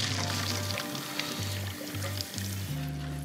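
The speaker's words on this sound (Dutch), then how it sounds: "Bloemkool even spoelen onder koud water." Cold tap water runs steadily over a cauliflower being rinsed in a kitchen sink, a continuous splashing stream with a low hum beneath it and a few brief changes in the flow.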